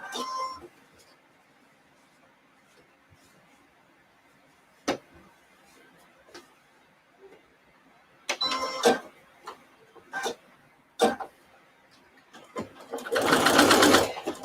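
A domestic sewing machine stitches the final edge of a fabric placemat in short separate bursts of whirring, fairly close, with quiet pauses between runs and a longer, louder burst near the end.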